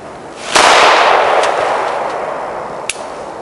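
A Glock pistol firing with ammunition causing failures to eject: one loud sharp shot that rings out and decays, followed by a smaller sharp report about two seconds later, outdoors.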